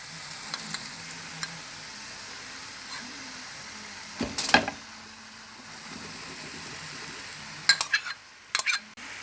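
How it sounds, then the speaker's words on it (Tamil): Cooked rice being stirred into fried vegetables and chicken in a hot pan for children's fried rice, a steady low sizzle with a few sharp metallic scrapes and clinks of the spoon against the pan, no talking. "இப்போ வடித்த சாதத்தை எடுத்து அதில் கொட்டி சேர்க்கணும்."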